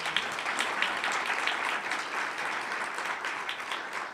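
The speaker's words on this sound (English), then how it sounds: "Let's give them a big round of applause." An audience at a National Press Club event claps steadily, a dense, even wash of applause that holds at the same level from start to finish.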